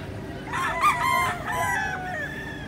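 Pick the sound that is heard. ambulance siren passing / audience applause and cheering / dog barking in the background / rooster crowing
rooster crowing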